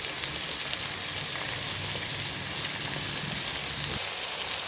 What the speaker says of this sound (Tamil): இப்போ வெங்காயம் நல்லா வதங்கணும் இந்த வெங்காயத்தை நல்லா வதக்கிக்கிறோம்